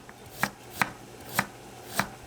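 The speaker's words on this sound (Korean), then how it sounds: "양파, 당근을 채 썹니다" Four evenly spaced knife strikes on a cutting board as onion and carrot are cut into thin strips, crisp and fairly quiet, close by, with no talk.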